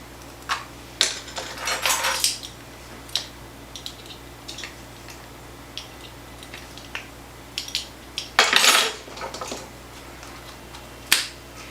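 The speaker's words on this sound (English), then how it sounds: "And you're going to whisk that all together." Flour, salt and garlic powder whisked together in a bowl: scattered light clicks and scraping bursts of the whisk against the sides, irregular and fairly close, with quiet gaps between strokes and no talking.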